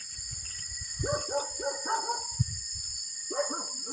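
Dogs bark in a rapid run of yips and barks, then a brief pause and another burst, over a steady high electronic whine.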